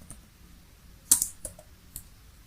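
A few sparse, quiet key clicks on a computer keyboard as a title is typed, with one slightly louder cluster of taps in the middle and otherwise near silence.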